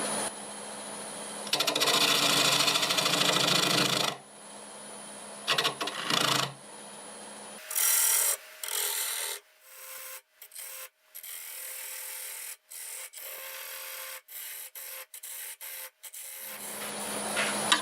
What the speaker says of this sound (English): Switching to the 1/2 inch bowl gouge, and we are doing about 830 RPM.